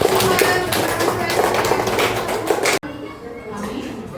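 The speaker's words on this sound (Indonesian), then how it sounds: "tepuk tangan dulu untuk teman-teman" A classroom of students claps in quick, scattered taps for their classmates, fairly close, breaking off abruptly before a quieter stretch with voices in the room.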